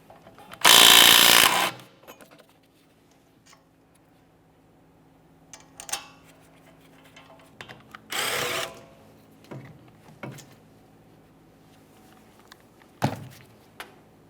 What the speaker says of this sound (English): We're going to continue on to removing each of our 2 caliper slider mounting bolts. For these, we're using a 13mm.